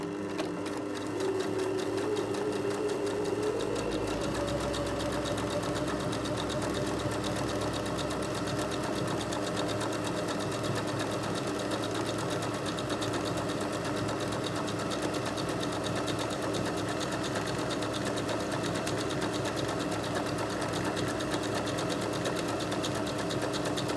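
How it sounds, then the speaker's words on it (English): A sewing machine runs a zigzag stitch over a fabric edge, making a steady, continuous mechanical whir and rapid needle chatter close by for the full length, with no talk. "And I'm going to sew, just starting with a zigzag."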